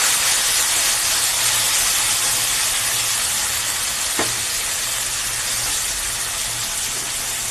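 Poppy seed paste, cashew paste and green chillies hit a hot pan for a prawn kofta dish, giving a steady hissing sizzle throughout with one brief sharp click midway and no talking.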